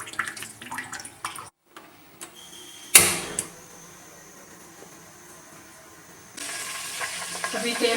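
Hot oil heating for frying karela and potatoes gives a soft hiss with scattered crackles and a sudden burst of sizzling splatter, then a steadier, louder frying sizzle toward the end.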